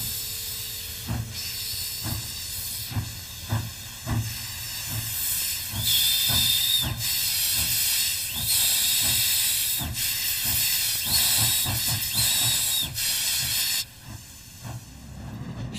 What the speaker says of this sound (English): an SY locomotive erupts in near-volcanic displays of superheated smoke